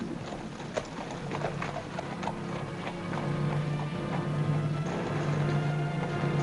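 Hooves clip-clop in a steady rhythm as an old horse pulls a heavily loaded old wagon, with a low rumble of wheels underneath, moderately close.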